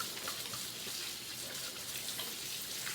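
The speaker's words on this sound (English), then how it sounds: "I'm gonna wash this bowl, but first I'm gonna wash my hands one last time" Hands are rinsed under a running kitchen tap, a soft steady wash of splashing water lasting a few seconds with no talking.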